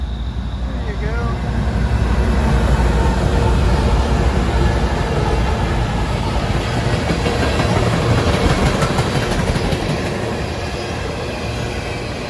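A lone train locomotive rolls past on a trail crossing, a steady loud rumble with rhythmic wheel clatter and faint squeals along the rails, holding close and strong throughout.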